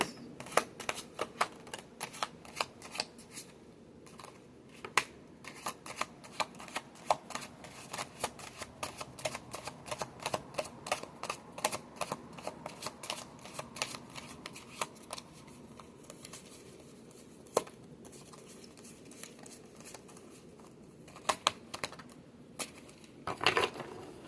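Tarot or oracle cards being shuffled by hand, a soft, steady stream of crisp riffling and flicking clicks, close and quiet, running on at length with no talking.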